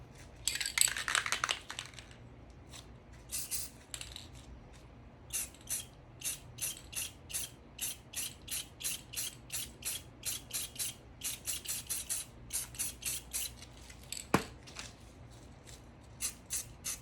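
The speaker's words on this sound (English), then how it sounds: "I'm gonna spray paint over here" A spray paint can hisses in a long opening burst, then in a rapid series of short, evenly spaced sprays while spray art is made, close and fairly quiet.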